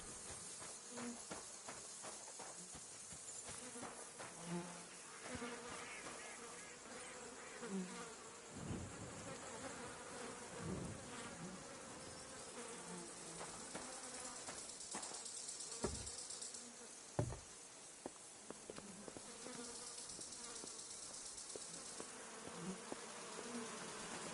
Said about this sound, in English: Get away. Those are my bees.